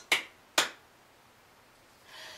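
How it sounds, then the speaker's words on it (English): Two sharp, close hand claps about half a second apart during a Simon Says game at a church family gathering, then quiet and a soft rustle. "Simon Says, clap your hands"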